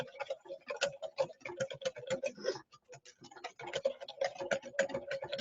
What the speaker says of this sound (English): You have to continue to incorporate that clarified butter, and you have to continue to whisk.